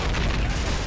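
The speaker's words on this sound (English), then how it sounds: "One grenade over there should do it." A grenade detonates in Call of Duty 4: Modern Warfare, on the Bog mission: one loud, dense, booming blast that fills the short moment, with no talk over it.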